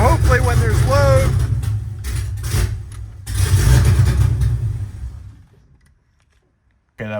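A Cadillac CTS-V drift car with a T56 gearbox, running poorly, revs loudly and up close in rough bursts with brief dips, then cuts to near silence before a sudden loud restart; voices are heard over the engine early on.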